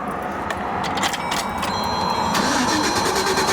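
A car engine repeatedly cranks over without catching, a continuous rough churning from the starter that runs the whole time, loud and close, in a repair shop setting where the fault is a ground strap issue.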